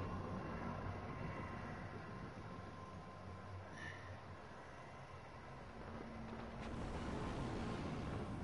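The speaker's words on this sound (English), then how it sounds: "The train is stopping at this station." A train rolls along in the Apex Legends video game, a steady low rumble and rattle of rail wheels that holds evenly throughout, with no talk over it.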